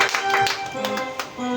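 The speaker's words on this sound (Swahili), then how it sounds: "Ya Yesu makofi mazuri." A church congregation applauding during a morning service, a brief burst of close claps mixed with voices, short and fairly loud.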